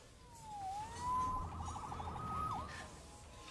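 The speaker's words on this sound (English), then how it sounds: "Saved by the siren." A police siren wails in the video game Marvel's Spider-Man Remastered, rising and falling in a wavering tone with a brief yelp pattern, faint and somewhat distant against city background noise.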